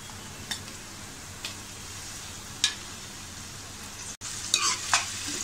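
Onion and tomato sautéing in a pan for egg biryani, a steady low sizzle with a few sharp scrapes and clicks of a spoon stirring, close and alone without talk.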